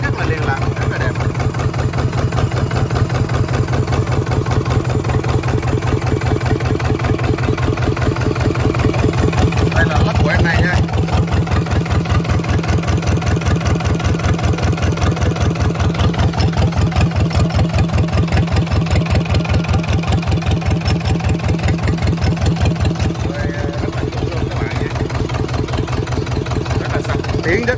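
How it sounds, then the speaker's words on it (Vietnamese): A Yanmar 2LM two-cylinder diesel marine engine, rated 24 hp at 3000 rpm, idles close by with a steady, even low thumping rhythm that holds constant throughout, loud and unbroken with no talk over it. "Máy nổ rất là êm ái nha các anh các bạn nha."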